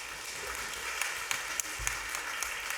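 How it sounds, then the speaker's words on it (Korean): A church congregation at a Sunday worship service gives soft, distant-sounding applause in a steady wash, with a few sharper claps standing out. "우리 큰 박수로."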